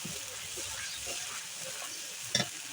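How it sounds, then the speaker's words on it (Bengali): Spice masala with a little water sautéing in a pan for village-style Sonali chicken curry makes a faint, steady sizzle with soft stirring, capped by one sharp clink near the end. "পানিটা একটু কষাই দিব মশলাটা"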